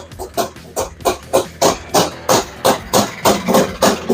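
A Lectron-carbureted FL350 scooter engine idles with a steady, rapid chugging pulse, each putter evenly spaced, running alone and fairly close.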